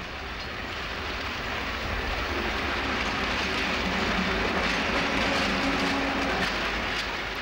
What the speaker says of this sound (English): This Class 47 is taking bitumen tanks back to Coryton Oil Refinery.